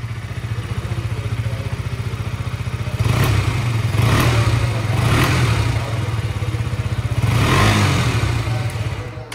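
The exhaust of a 2023 KTM RC 125 E20 edition, a 125 cc motorcycle, being revved several times from idle, with a close low chugging idle broken by about four short, louder throttle blips.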